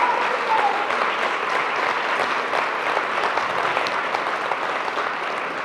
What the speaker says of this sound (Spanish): que también pido un aplauso para ellos